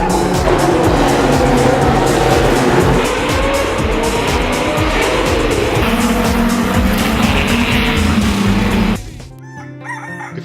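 Vintage racing cars at the Monaco Historic Grand Prix, engines screaming and snarling continuously with tire squeal as several cars pass close and loud, the roar cutting off abruptly near the end.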